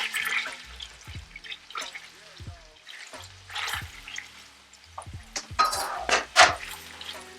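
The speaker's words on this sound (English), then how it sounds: "The butter and oil mixture is now hot and starting to bubble, and it's time to add the sliced leek" Sliced leek hits hot, bubbling butter and oil in a pot for seafood chowder, giving a soft sizzle under several sharp clinks and scrapes of a utensil against cookware, close and fairly quiet, with no talking.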